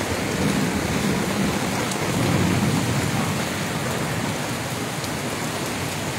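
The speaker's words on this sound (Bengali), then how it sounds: "এই বৃষ্টি, প্রচুর বৃষ্টি।" Heavy rain pours steadily in Chittagong with thunder rumbling underneath, a dense continuous roar of water hitting surfaces, close and loud throughout with no voices.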